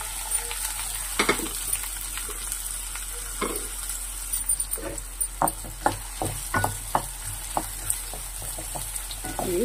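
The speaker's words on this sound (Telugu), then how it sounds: "ఇది కొంచెం మగ్గే వరకు బాగా ఫ్రై చేసుకోవాలండి." Chopped onions frying in a pan for chicken fry: a steady hiss of sizzling oil with scattered scraping and tapping of a spatula against the pan, growing busier toward the end, close up.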